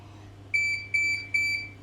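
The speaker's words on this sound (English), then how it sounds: "Beep 3, limited public mode, what I want." A Kerong electronic lock, switched to limited public mode with a mode card, sounds three evenly spaced, sharp, high-pitched electronic beeps over a faint steady hum.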